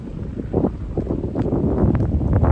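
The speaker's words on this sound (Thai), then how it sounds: "เสียงลมพี่น้อง" Wind roars through a forest, a loud, steady rush with gusting swells and rumbling microphone buffeting, no voices.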